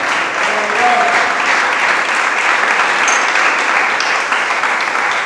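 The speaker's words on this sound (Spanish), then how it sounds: "¡Dele palmas al Cristo de la gloria!" A church congregation applauding during a sermon, a loud, dense and continuous roar of many hands clapping, steady from start to finish, with faint voices mixed in.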